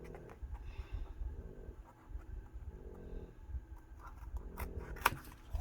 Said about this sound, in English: And I'm just going to cut them straight across since it's like so short.